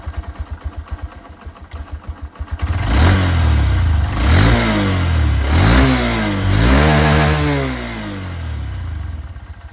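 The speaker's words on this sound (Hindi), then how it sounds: "यहाँ पर सुनते हैं एसपी की आवाज़।" A 2025 Honda SP125 motorcycle cranks with a rapid starter chatter, catches, and its 125cc single-cylinder engine revs up and down in several throttle blips before settling back toward idle, loud and close.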